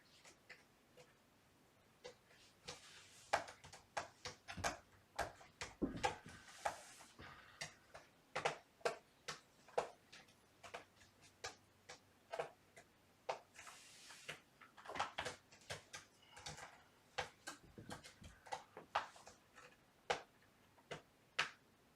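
A wall clock ticking in a quiet room, faint regular ticks running throughout, mixed with scattered louder clicks and soft knocks.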